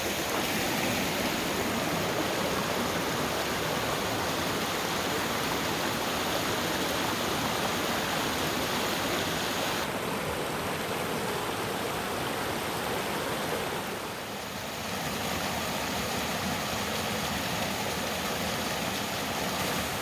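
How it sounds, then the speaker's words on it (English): Bohannon Creek running fast and swollen after a heavy overnight rainstorm, a loud steady rushing of water, close and continuous with no talking. "so that's Bohannon Creek"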